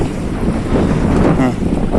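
Wind gusting across an exposed shoreline fishing spot at total low tide, with boats stranded on the mud, makes a steady, loud, buffeting rumble that fills the whole stretch without pause.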